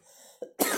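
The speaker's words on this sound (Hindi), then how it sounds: "खांसी हो गई बीच में" A single short cough, followed a moment later by a louder, harsher cough or throat clearing, close to the microphone.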